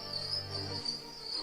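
Crickets chirp inside a cave, a steady high-pitched trill running throughout, with a low hum underneath that drops away partway through.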